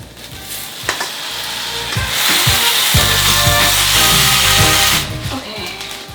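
Rice vermicelli (bihun) frying with vegetables, meat and sauce, sizzling loudly and steadily, with utensil clanks and stirring scrapes scattered over the hiss.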